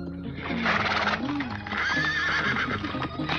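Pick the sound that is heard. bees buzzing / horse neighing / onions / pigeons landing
horse neighing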